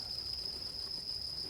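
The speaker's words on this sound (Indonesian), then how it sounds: "Lu cuma kedengeran suara jangkrik doang." Crickets chirp in a steady, high continuous trill at night beside a house, alone against low background rumble with no voices.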